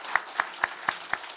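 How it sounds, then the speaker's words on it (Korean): A church congregation at a Sunday morning worship service claps in unison: six evenly spaced, sharp claps in a quick steady rhythm, fairly close and clear over a quiet room. "박수 한번"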